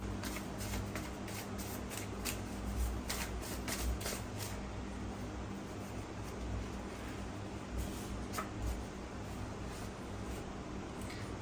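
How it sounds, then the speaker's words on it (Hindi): Tarot cards shuffled by hand, a steady papery riffling and sliding that carries on continuously at moderate level over a low background hum, with no talking. "शफल करते हैं"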